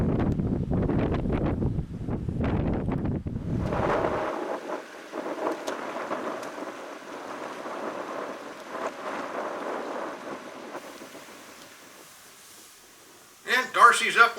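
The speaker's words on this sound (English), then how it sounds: "I notice the wind is starting to pick up" Wind gusts across the microphone at Chickahominy Reservoir while trout fishing from a boat, a heavy low rumble buffeting loudly at first, then dropping to a lighter steady breeze before a final burst of gusts.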